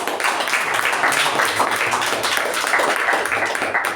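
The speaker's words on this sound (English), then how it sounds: "So huge round of applause for our MC for the day" Audience applause for the master of ceremonies at a club meeting, a loud, continuous wash of many clapping hands holding steady for several seconds before tapering at the end.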